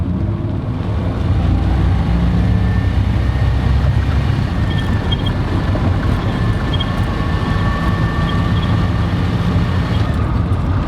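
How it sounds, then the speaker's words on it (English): A turbocharged V6 GMC Typhoon driving down a street, its engine giving a steady, loud induction roar and rumble with a faint turbo whistle running continuously, no voices over it. "It's like all induction noise"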